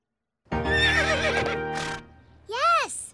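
A person imitates a pony's neigh, giving a loud, close, wavering whinny followed by a short rising-and-falling squeal.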